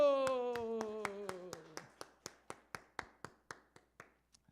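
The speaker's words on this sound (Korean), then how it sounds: "박수." A church congregation claps in a steady rhythm of sharp beats that gradually thin and fade, while a sustained voice tone sounds at the start.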